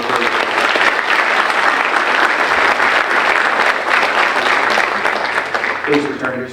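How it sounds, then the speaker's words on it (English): Loud, dense applause from the audience at a high school senior awards ceremony, a continuous roar of many hands that stays strong throughout and thins slightly at the end as a voice comes in. "Can I have a round of applause for"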